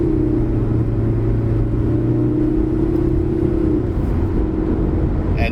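A 2013 Proton Saga FLX 1.6 in drive on the Genting road, its engine giving a loud, steady droning hum with constant road rumble from inside the cabin.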